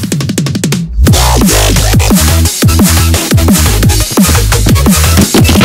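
A dubstep track plays loudly, with heavy pulsing bass wobbles, sharp pitch-sliding synth hits and a driving, fast rhythm after a brief stuttering intro.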